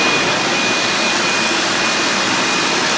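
A 1968 Hoover Dial-a-matic 1120 vacuum cleaner, U.S. model rated at 780 watts, runs steadily and loudly close by, a dense airy roar with a thin high whine held throughout.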